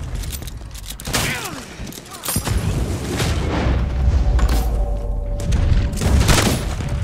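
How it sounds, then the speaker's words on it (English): Explosive rounds go off in a Red Dead Online shootout: several loud booming blasts at irregular intervals, with sharp bursts near the start and end and a rumbling, clattering gunfight filling the gaps between them. "Oh, explosive rounds again."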